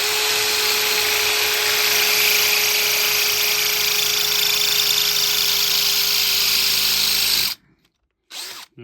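A power drill fitted with an indestructible drill bit bores into metal while fitting a new lock on big gates, a loud steady whine for about seven seconds that cuts off abruptly, followed by a brief burst of noise.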